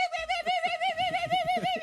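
A voice imitates the grinding, scraping steering of a brand-new car badly damaged down one side, its wheel dragging: a sustained whining tone with rough, rhythmic grinding pulses underneath, close and steady for a couple of seconds.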